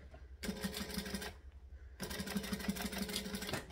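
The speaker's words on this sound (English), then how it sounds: "I'm just going to come back to here and stitch over just the tag section." A sewing machine stitches back over the tag section of a sewn piece in two rapid, buzzing bursts separated by a short pause, close and fairly quiet.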